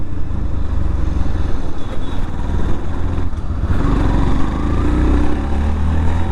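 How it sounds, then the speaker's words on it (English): Yamaha FZ-X motorcycle engine revving up close, a loud continuous throbbing rumble that rises in pitch and intensity partway through. "Let's rev it up a little bit."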